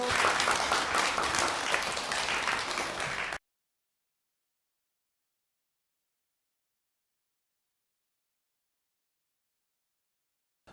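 Audience applause at a Korean hair styling competition as a hair designer is welcomed, a loud burst of dense crowd clapping for about three seconds before cutting abruptly to silence.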